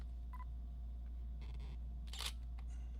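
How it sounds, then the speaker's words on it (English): A DSLR camera running on a ZEIKOS battery pack fires its regular shutter, giving a few brief separated mechanical clicks, with a quick louder snap near the end over a low steady hum. "So we're going to try the regular shutter."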